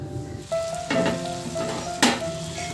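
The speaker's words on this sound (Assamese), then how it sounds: "আৰু মাংসখিনি ভাল ধৰণে সিজাই আছোঁ" Meat for an Assamese curry cooks in a pan with a soft continuous sizzle, with a few louder bursts of frying as pieces are moved or stirred.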